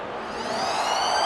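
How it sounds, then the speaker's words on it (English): Half-time siren at Bankwest Stadium during a rugby league match, a loud sustained wailing tone rising slightly in pitch over crowd noise, brief and without talk. "And that is the siren here at Bankwest Stadium."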